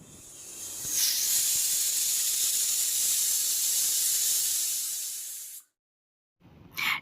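A pressure cooker vents steam while mutton cooks, giving a loud, steady hiss that runs several seconds, cuts off abruptly, then returns in one brief final spurt.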